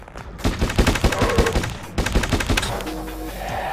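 Gunner Z, a zombie shooter video game, fires rapid rocket and gun bursts in two close, loud volleys, with a low rumbling tail afterward and no voices.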